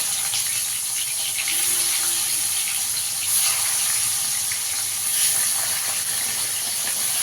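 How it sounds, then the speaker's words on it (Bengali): Chicken rubbed with salt and turmeric fries in hot oil, giving a loud, continuous hiss that barely changes, with no voices. "এই তেলে আমি চিকেনটা ভেজে নেবো।"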